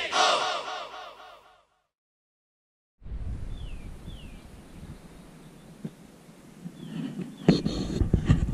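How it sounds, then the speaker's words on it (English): Crows caw outdoors in a sequence of harsh, rasping calls, a burst of several loud caws at first, then after a short gap fainter scattered calls over rustling background noise. "Those birds are tormenting Steve."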